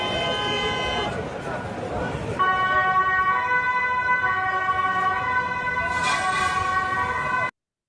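A two-tone European emergency vehicle siren wails on an Amsterdam street, loud and close, with shouting voices over traffic noise early on before the steady alternating tones dominate.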